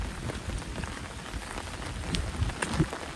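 The first monsoon rain of the season at Dahanu falls steadily on surfaces nearby, a dense patter with a few louder drops standing out and no voices.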